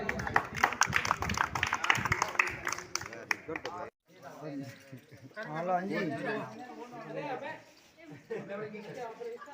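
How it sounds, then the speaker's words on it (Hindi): Crowd applause at a government school in Motisara celebrating student success: vigorous, dense clapping for about three seconds, then cut off as a speaking voice and crowd chatter take over. "जोरदार तालियां"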